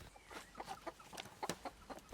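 Chickens clucking inside a chicken coop, with a steady run of short clucks and murmurs at moderate distance and no talking.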